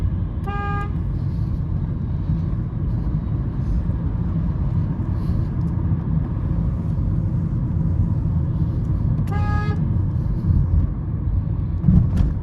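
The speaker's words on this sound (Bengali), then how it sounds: "হর্ন না দিলে তো এরা সরে না" A car horn gives two short bursts, seconds apart, over the constant low rumble of engines and road noise from inside a car during a late-night drive through Dhaka traffic.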